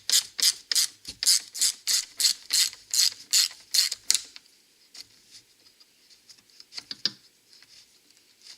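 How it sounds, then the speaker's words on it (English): A ratchet unbolts 8 millimeter bolts from a car airbox on a Regal GS, about a dozen crisp, evenly spaced clicks up close, then quieter scattered tapping and a few faint clicks. "They're calling for some 8 millimeter bolts to be unbolted."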